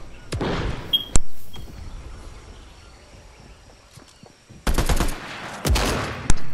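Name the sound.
gunfire in the video game Fortnite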